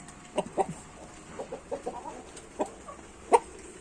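Chickens and roosters cluck in short, scattered bursts, with one louder squawk near the end, against a quiet outdoor background.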